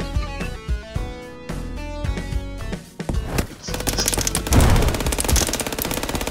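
Loud, rapid bursts of gunfire break out in the second half of a chess video game played with guns, following a stretch of musical tones and continuing as a dense crackle to the end.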